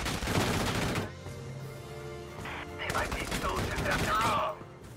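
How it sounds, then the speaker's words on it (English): Gunfire aimed at a Shock Trooper in Valkyria Chronicles 4, with a burst of rapid shots at the start, then quieter game sounds and a second crackling volley near the end. "let's shoot at him anyway"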